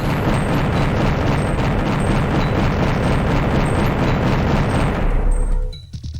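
Rapid, sustained cannon fire from a mech in a video game, a dense continuous barrage of booming shots for about five seconds that cuts off abruptly, followed by brief quieter mechanical tail.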